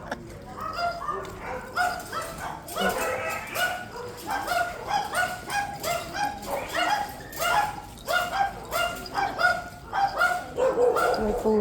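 Several dogs bark and yip in quick repeated bursts during a morning walk, the barking close and lively with short pauses, and a voice speaks intermittently among the barks.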